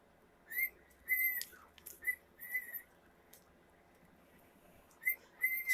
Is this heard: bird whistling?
yes